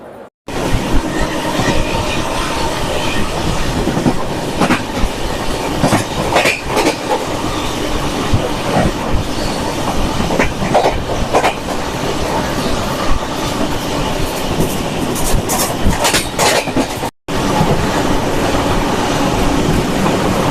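The Mumbai to Vijayawada express, train 17222 LLT, runs loud and close with a continuous rumble, rhythmic clickety-clack of wheels over rail joints and occasional metallic squeals, cutting out briefly near the end.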